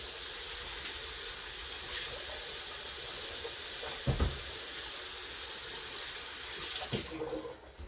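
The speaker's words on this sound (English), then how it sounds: "I'm gonna wash my hands once." Tap water runs steadily into a kitchen sink while hands are washed after cooking red chili pork, a continuous close splashing hiss with a couple of slightly louder splashes and no talking.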